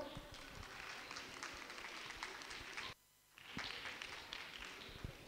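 Audience applause at a singing festival, a dense patter of many hands clapping at moderate distance, briefly dropping out before resuming just as thickly.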